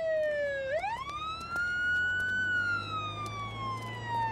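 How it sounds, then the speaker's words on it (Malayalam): An ambulance siren wails loudly and close by, dipping then sweeping back up into a long steady tone over a low engine rumble, with no talk. "ആംബുലൻസ് വരുന്നുണ്ടല്ലേ, നിർത്താൻ പറ."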